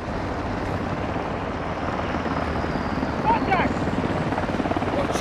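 A military helicopter in the video game Modern Warfare 2 drones and thrums steadily throughout, with a wind-like rush, and game voices and radio chatter sound faintly over it.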